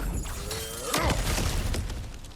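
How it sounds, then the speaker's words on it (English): Breakable objects smashed in God of War Ragnarok, a sharp shattering crash near the middle of the clip with debris rattling afterward, loud and close over low game ambience. "back to smashing through things for fun and profit"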